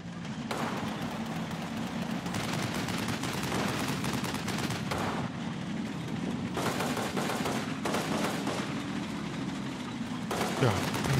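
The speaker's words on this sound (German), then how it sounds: "Ja, ein Gegenfeuer kommt von der Flanke und auch die ersten Schüsse von Sergeant Shulman schlagen ein." Gunfire in the Combat Mission: Battle for Normandy video game, dense bursts of shots and machine-gun fire in repeated clusters, loud and continuous over a rumbling background.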